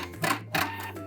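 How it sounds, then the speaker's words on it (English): A sewing machine fitted with a gathering foot back stitches at the end of a seam of fabric, giving two quick, close mechanical whirring bursts. "When I get to the end, I'm going to back stitch and cut."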